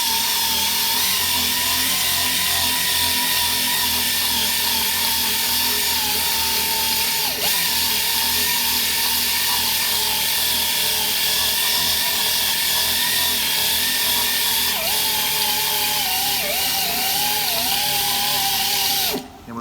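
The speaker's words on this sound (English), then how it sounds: "First thing we're going to do is start buffing the area." A power tool buffs the inside of a tire around a puncture before a patch goes on, giving a loud, steady, continuous whine that runs almost unbroken to the end.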